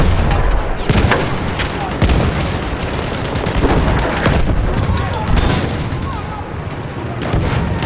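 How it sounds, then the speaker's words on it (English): Enemy machine gun fire rattles through a dense World War I Somme battlefield in a video game, rapid bursts buried in continuous booms, explosions and battle noise at loud, unbroken intensity. "Machine gun, one of theirs."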